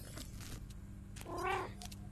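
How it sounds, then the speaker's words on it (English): Cat meowing in a video game, a single drawn-out meow standing out over a low background hum, with soft clicks around it. "Oh, there's a cat."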